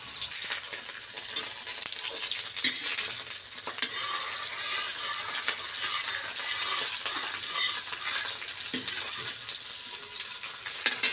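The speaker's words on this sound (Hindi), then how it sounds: "अब हम जहाँ प्याज डालेंगे, इसको अच्छे से भुन जाएगी।" Onions frying in a pan with a steady sizzle and occasional stirring scrapes and clinks, close and moderately loud, with no talking.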